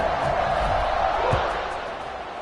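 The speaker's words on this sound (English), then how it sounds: "this crowd is buzzing after that last score" Crowd in a video game football stadium for Purdue versus Illinois buzzes after a score, a dense steady roar of massed voices filling the space with a brief thump midway.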